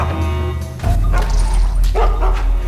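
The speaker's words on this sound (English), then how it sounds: "Doesn't matter that the dog is barking" Dog barking in the stealth video game Mark of the Ninja: a low rumble gives way to a few close, sharp barks and yips over game ambience.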